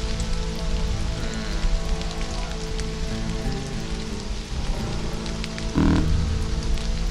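Steady rain hisses without a break in the survival game Stranded: Alien Dawn during a meteor rain, with a low tonal drone beneath it and a brief louder swell near the end.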